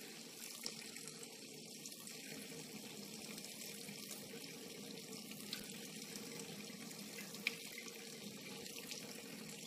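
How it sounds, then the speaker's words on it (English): Hot water pouring slowly into the groove of a thick glass bottle, a faint, continuous hissing trickle with occasional tiny ticks, steady and unaccompanied. "you don't want to pour it fast because you're just going through a lot of hot water for nothing"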